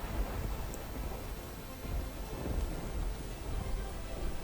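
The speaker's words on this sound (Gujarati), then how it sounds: "ગ્રામ્ય પંથકમાં વરસાદ વરસી રહ્યો છે" Heavy early-morning rain falls in a constant roar over rural Upleta, Rajkot district, Gujarat, with a deep rumble of thunder rolling underneath throughout.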